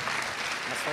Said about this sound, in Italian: di nuovo un applauso